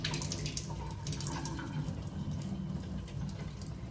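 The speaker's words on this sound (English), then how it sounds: "It's filling up the filter because I emptied that before I traveled." Water runs steadily into the filter of a K8 water machine, a continuous rushing hiss with faint trickling, close by and alone.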